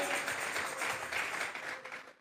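Applause from a church congregation after a sermon line, a faint, steady wash of many hands clapping that holds for about two seconds without speech over it.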